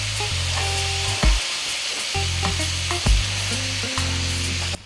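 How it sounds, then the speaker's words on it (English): Lamb neck browns in a pan with a little oil, giving a loud, close, continuous sizzle broken by a few brief clunks and shifts as the pieces are moved. "I'm browning the meat to lock in the flavor and get some of the juices out."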